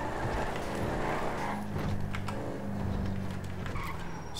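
A car roars at speed in Grand Theft Auto 5, engine droning steadily with tire noise and skidding throughout, loud and continuous.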